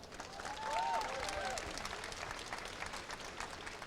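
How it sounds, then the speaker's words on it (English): Applause from a convention audience after an interview with two voice actors at a fan event, a steady wash of clapping throughout, with faint voices and whistle-like tones mixed in early on. "A round of applause"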